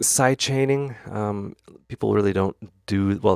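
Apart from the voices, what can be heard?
No distinct noise like a dog, phone or traffic.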